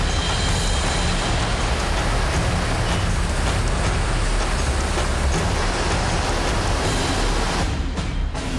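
Heavy rain pours steadily over a flooded city, a dense, continuous wash of sound with no pauses or voices.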